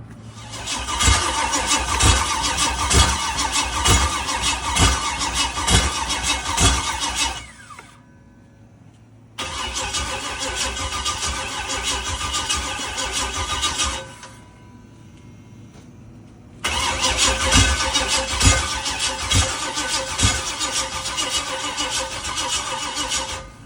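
An LS-swapped V8 in a G-body car fires up for the first time, three loud bursts of rumbling running with abrupt cutoffs and quiet gaps between them.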